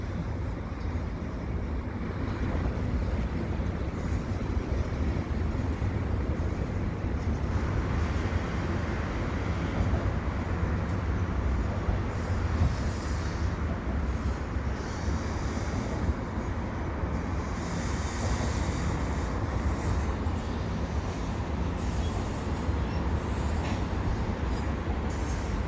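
CN and CP freight trains roll past at Dorval with a loud, steady rumble and rail noise that holds unbroken for the whole stretch, with no voices.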